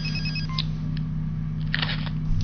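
A telephone rings in the Pepsiman video game, a few short electronic ring bursts over a steady low hum, close and fairly loud with no talking.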